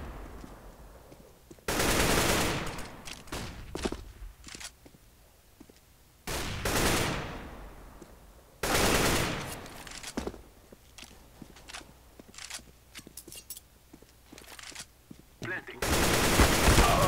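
Bursts of automatic gunfire in Counter-Strike: Global Offensive come in several loud rapid-fire volleys separated by quieter stretches of footsteps and clicks, with more distant shots scattered between.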